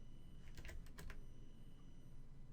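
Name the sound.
typing on a computer keyboard in a spreadsheet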